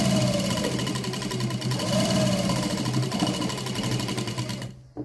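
A sewing machine hums and rattles continuously, close and fairly loud, while stitching the lining of a blouse, then stops abruptly just before the end.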